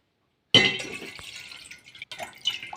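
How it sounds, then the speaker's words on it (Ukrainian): Hot water poured from glasses into a bowl already holding vinegar, mixed as a homemade floor cleaner; a sudden splashing rush starts after a short silence, then trickles and dribbles on close by. "Беремо дві склянки гарячої води."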